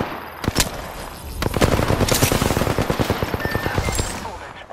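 Automatic gunfire in the battle royale shooter Apex Legends, a loud close burst of rapid shots building into sustained rattling fire over a few seconds, with scattered single cracks before it.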